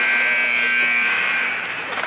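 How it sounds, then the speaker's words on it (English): A long electronic buzzer at an over-50 hockey league game, a loud steady tone holding for about two seconds before fading slightly at the end. "that was the sound of the buzzer"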